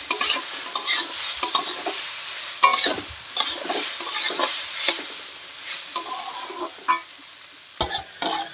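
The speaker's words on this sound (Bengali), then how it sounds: "ওদিকে চালে ডালে ভালো করে আমার ভাজা হচ্ছে" Rice and lentils for moong and masoor dal khichdi frying in a pan during village cooking, with close, repeated scraping stirs and clicks of the spoon over a soft continuous sizzle.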